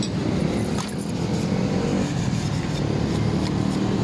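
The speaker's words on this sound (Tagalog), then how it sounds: "ito na nga ang revelasyon ng MIUI 125 na napakaingay" A noisy Yamaha Mio i 125 scooter engine idles close by with a dense, continuous mechanical clatter and rattle, steady and loud with no pauses.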